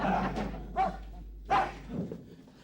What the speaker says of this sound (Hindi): ये पांडे का कुत्ता अपने आप को समझता क्या है?